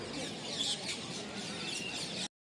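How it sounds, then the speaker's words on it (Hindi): Birds chirping outdoors in the grounds of the Taj Mahal, a dense steady twittering wash with a few brighter squeaky calls rising above it, continuous and fairly close before cutting off abruptly. "यहाँ पक्षियों के चहचहाने की आवाज़ आ रही है"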